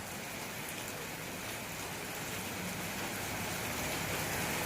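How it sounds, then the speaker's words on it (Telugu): Heavy rain pours down in a thick, unbroken roar of drops striking surfaces, swelling slightly louder toward the end, with no one speaking. "చూసారా ఇంత వర్షం కొడుతుంది"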